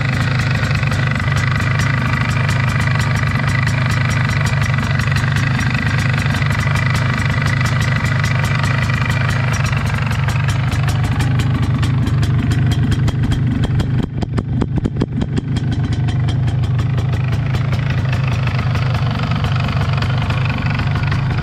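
A two-stroke MZ ETZ 250 motorcycle idles right after a head gasket replacement, a loud steady rapid putter close by that holds for the whole stretch with a brief dip partway through.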